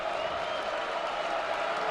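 Basketball arena crowd at a Texas vs. Michigan men's game rising to its feet, a steady, dense roar of cheering and applause filling the space with no break for the full two seconds.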